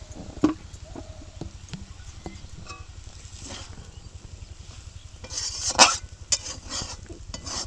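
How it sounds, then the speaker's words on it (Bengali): A utensil stirs tomato sauce chow mein in a pan with steady rhythmic scraping and clinking, a soft sizzle underneath, and a brief louder clatter near the end. "এবার নিচে নামিয়ে একটু নাড়ি"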